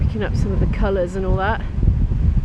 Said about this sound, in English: Apologies for the wind. It's very windy right now.